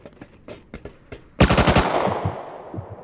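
Gunfire in the video game Rust: a few separate shots, then a loud rapid automatic burst with a trailing echo.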